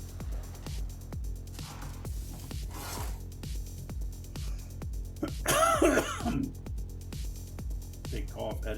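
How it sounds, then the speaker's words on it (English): A single loud, harsh cough bursts out over a steady low rhythmic background hum, close to the listener. "Big cough, edit that, edit that."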